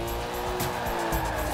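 A sustained squeal from the tires of an Aston Martin DB4 Zagato drifting in Forza Horizon 4, with the engine droning steadily underneath and no talk.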